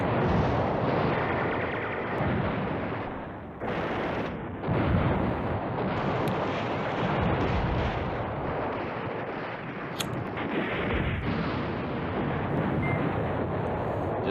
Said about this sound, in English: Just keep the artillery going